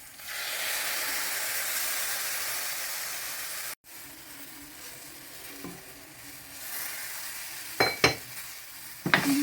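Ground coconut stirred into fenugreek, onion and curry leaves frying in a pan, giving a steady close sizzle with soft scraping stirs and a few sharper clinks of the spoon near the end.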